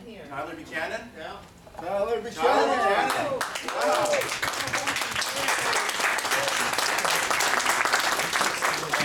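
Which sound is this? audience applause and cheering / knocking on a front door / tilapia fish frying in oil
audience applause and cheering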